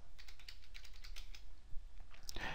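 Quick close keystrokes on a computer keyboard as a chart title is typed into a spreadsheet, a short run of clicks over steady room hiss.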